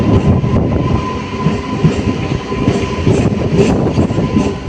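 A MEMU passenger train runs steadily, heard from inside with a rumbling roar, rhythmic clatter of wheels on track and a faint steady whine; no talking.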